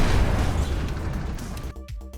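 The second gun of a Wiesel 1 MK20 in a video game fires at a tank: dense, loud booming blasts with heavy low rumble that run together, then stop abruptly near the end.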